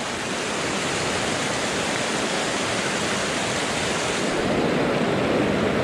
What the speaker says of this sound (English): I know I got to cross the river coming up anyway.